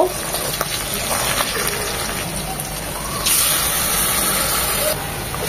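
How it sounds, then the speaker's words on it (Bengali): Water is poured onto ground spices, including chilli powder, to mix them into a paste for a chicken and turnip curry, making a steady gushing splash for several seconds with a brief louder rush midway. "এগুলো একটু পানি দিয়ে গুলিয়ে দেব।"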